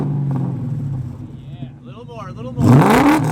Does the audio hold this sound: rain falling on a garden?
no